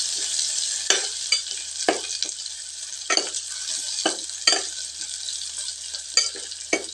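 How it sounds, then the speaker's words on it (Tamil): Garlic sizzles in hot oil with cumin and fenugreek, a steady bright frying hiss broken by repeated scraping stirs every second or so, close and alone. "இப்போ பூண்டு சேர்த்துக்கலாங்க. பூண்டு நல்லா செவக்கட்டுங்க."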